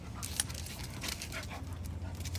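A dog whimpers and pants close by in a soft, steady series of breathy sounds and small whines, quiet and with no voices.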